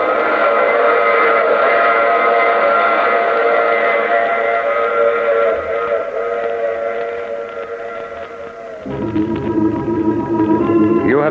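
A steam train rumbles along with a long, loud whistle blast held over the rolling noise, then the chugging shifts and the whistle sounds again, all close and full, staged as an effect in a vintage radio mystery drama.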